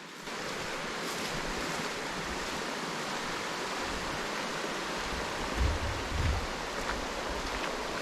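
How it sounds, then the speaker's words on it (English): Water running through a creek near a beaver dam, a steady broadband rush with a couple of soft low thumps, moderately faint and with no voices. "Got water running through here."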